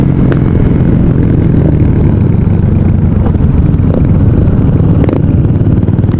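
Motorcycles in a group rally ride at San Jose Partido roll along together, a steady loud engine drone filling the whole stretch with no break.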